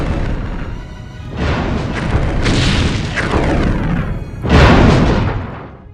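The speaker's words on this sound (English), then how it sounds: "The Klingons are opening fire." Klingon ships fire on a starship in a Star Trek scene, producing a run of loud, heavy booming explosions with rumbling sci-fi weapon blasts, ending in one especially big close burst.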